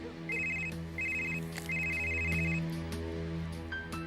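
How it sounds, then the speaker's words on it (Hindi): A phone ringtone chirps in three short repeated bursts, moderately loud, over a steady low hum in an indoor setting, with no one talking. "हाँ देखना, तेरा फोन आया।"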